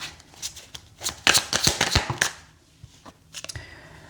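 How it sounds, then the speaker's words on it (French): Tarot cards being shuffled by hand, a close, quick flurry of riffling and slapping that builds, then fades into a few softer taps as a card is drawn, with no voices. "je vous tire une carte de fin ici"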